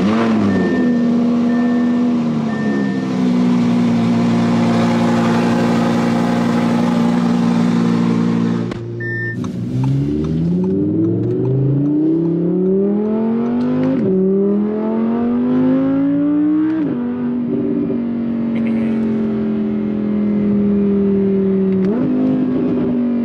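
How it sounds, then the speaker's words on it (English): An Audi R8 with a titanium exhaust cold starting in a garage, a loud close engine roar that settles into a high idle, then drops and rises through several sharp revs. "Now cold start with the titanium exhaust."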